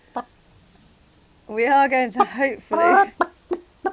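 A man imitates a chicken with a loud run of voiced clucks and squawks, several harmonic bursts followed by short clipped clucks, near and alone after a brief sound at the start.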